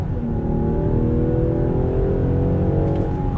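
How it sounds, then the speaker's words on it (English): A 2020 Land Rover Defender luxury off-road SUV accelerates hard on throttle, its engine note a loud, steady close-up drone with a faint rising pitch and no speech. "Let's do another acceleration test. On throttle, drops down, nose comes up,"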